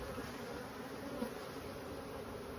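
Honey bees buzz around an opened hive holding boxes of honey, a faint, continuous droning hum with no voices.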